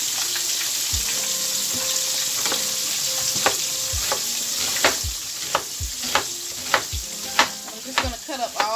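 Pork chops frying in a pan give off a steady, close sizzle, with a run of sharp crackles and pops growing more frequent and louder toward the end.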